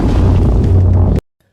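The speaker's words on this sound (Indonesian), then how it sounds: "tiba-tiba ada suara bom yang menggelegar" Loud, deep explosion at a petrol station in a zombie film, a heavy rumbling blast that fills the first second before cutting abruptly to silence.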